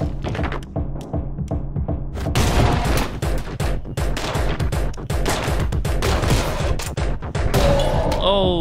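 Gunfire and chaotic action in the game Anger Foot: quick shots and thuds pile up after a quieter opening, loud and dense, with a voice talking over parts of it.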